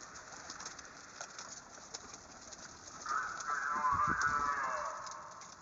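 Pigeons cooing softly in a steady, muffled background, the calls growing a little louder near the end.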